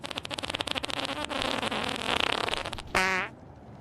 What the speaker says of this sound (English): just an unnecessary fart off the rip